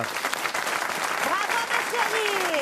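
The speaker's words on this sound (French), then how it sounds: "On vous applaudit" Studio audience applauding on a French radio comedy show, a dense, steady round of clapping with a few whoops and voices mixed in, close and fairly loud.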